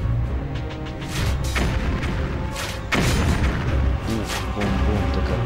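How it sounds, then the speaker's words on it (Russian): Repeated deep booms and thuds from explosions in Epic Battle Simulator 2, with sharp blasts around the middle and a dense rumbling background throughout. "взрыв, взрыв, и один только взрыв"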